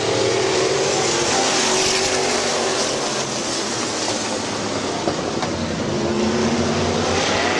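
Modified race cars in an eight-lap heat race at Midvale Speedway make a continuous, broad roar that holds steady throughout, like a pack of engines heard from some distance.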